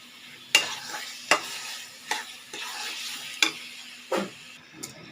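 Chicken frying for chicken kasa, spoon scraping and stirring in a sizzling pan in sharp strokes about once a second over a low, steady hiss.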